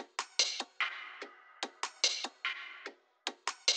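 A crisp percussion loop for a UK drill melody: sharp, clicky hits in a syncopated, repeating pattern, with short decaying tails and a brief gap before it resumes.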